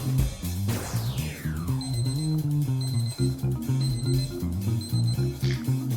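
A bright electronic kitchen timer beeps in repeated short bursts at a steady rhythm while macaroni cooks, over a busy background of clattering and low rumbling noise.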